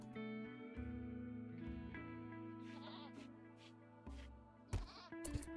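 Several goats bleating in RimWorld over a steady harmonic game music bed, the calls rising in short bursts near the end.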